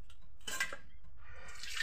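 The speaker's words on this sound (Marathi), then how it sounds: "आवश्यक तेवढं पाणी टाकू।" Water poured into a pressure cooker holding halved potatoes, two short close bursts of splashing and trickling against metal with a quiet pause between them.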